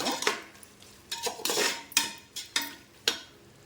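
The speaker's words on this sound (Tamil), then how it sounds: "போட்டு நல்லா அந்த இஞ்சி பூண்டு வாசம் போகிற வரைக்கும் நல்லா வதக்கி விடுவோம்." A spoon scrapes and knocks against a pan as ginger garlic paste is sautéed for a goat intestine curry. The knocks are repeated and irregular, come from close by, and play alone with no talking.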